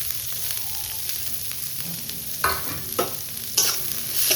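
Onion, green chili, capsicum and carrot frying in oil in a hot kadhai for cheese Maggi, a steady soft sizzle broken by several sharp stirring scrapes and clinks toward the end.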